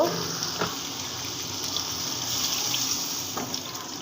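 Water is poured into a simmering egg curry after the spices have been fried down, making a steady close splashing gush mixed with sizzling from the pan, with no talking.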